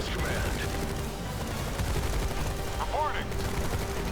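Rapid gunfire rattles almost without pause as units shoot at tanks in the real-time strategy game Tempest Rising, with mechanical clanks and short whooshing effects layered into the dense battle noise.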